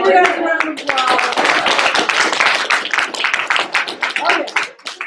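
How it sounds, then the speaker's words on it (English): Clapping from a small group at a training session, fairly loud and close, with dense hand claps mixed with overlapping voices and cheering throughout. "give you guys a round of applause."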